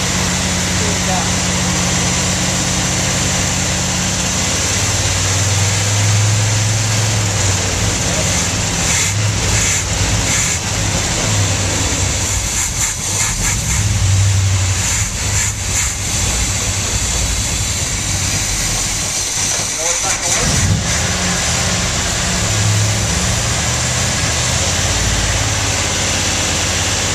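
A 1971 Corvette engine idles steadily during break-in, a loud continuous low rumble with a constant hum that holds throughout, briefly dipping near the end before settling back.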